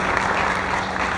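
A poetry mushaira audience in Raipur claps in a steady, dense wash of applause that fills the hall throughout.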